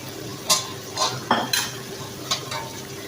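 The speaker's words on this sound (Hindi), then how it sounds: "3 से 4 मिनट तक इसको भुनाई करेंगे" Cumin, crushed red chili, black pepper, turmeric and crushed coriander roast on high heat for Lahori chole, with a steady sizzle under about half a dozen sharp spoon scrapes against the pan; no voices.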